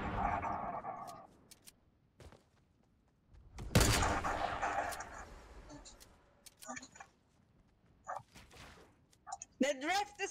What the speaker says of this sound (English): we're gonna shoot them